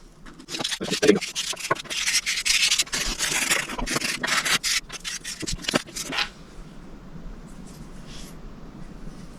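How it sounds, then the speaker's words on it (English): Sandpaper rubs back and forth over a homemade wooden alligator lure in quick, close, scratchy strokes for about six seconds, then stops, leaving quiet room tone. "So I got a little sandpaper here, and here we go."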